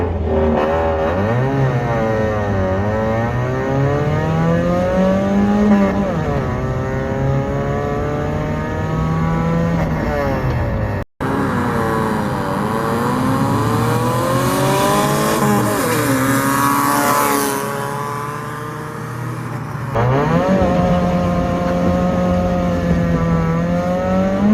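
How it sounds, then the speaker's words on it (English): A turbocharged Honda Civic with an extremely long turbo manifold accelerates hard in second gear: a loud, close engine note climbs repeatedly in pitch, with gear shifts and a brief cut around the middle. "Alright, we're gonna try a second gear pull."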